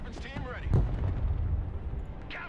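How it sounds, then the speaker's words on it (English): Artillery fire in the video game Broken Arrow: a deep booming explosion with a low rumbling tail, preceded by a whooshing sweep and followed by a lighter pop, over game sound. "Let's see if we can get some arty on that party"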